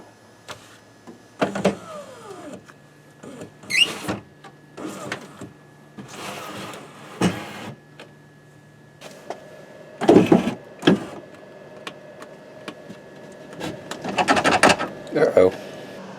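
A power window regulator motor in a BMW Z3 door whirs in repeated short bursts, close and mechanical. A voice speaks in between.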